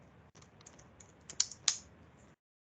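Quick keystrokes on a computer keyboard entering a database query, a soft run of clicks with a couple of sharper louder taps near the end, close and quiet, then silence.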